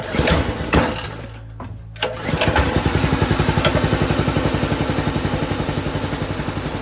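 A small gas engine on an off-grid milking machine sputters and starts after a pause, then settles into a steady rapid chugging rhythm, loud and close.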